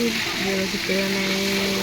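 Fish frying in a pan gives a steady, close sizzle for the whole stretch, with a faint voice-like tone running over it.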